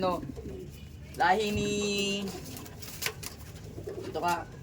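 Pink-eyed pigeons cooing close by, a long throaty coo in the middle with softer calls around it, while a person talks over the birds.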